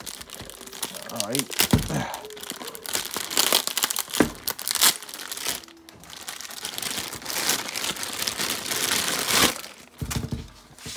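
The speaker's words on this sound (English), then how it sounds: "So let's get it out of the packaging. So it's taped on." Taped plastic packaging around a Bandai Movie Monster series Godzilla figure is crinkled, torn and pulled open close up, with bursts of crumpling and ripping and a brief spoken word.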